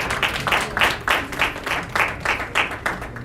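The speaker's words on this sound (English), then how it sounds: "A round of applause for Ms. Priska, please." Audience applause at an African entrepreneurship program, heard as a steady run of rhythmic claps from a gathered crowd, moderately loud and without talk.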